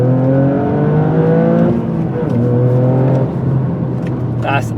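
A Toyota GR Yaris with a titanium Akrapovič race exhaust revs up through the range, a loud rising engine note climbing in repeated pulls and settling back, with voices faintly underneath.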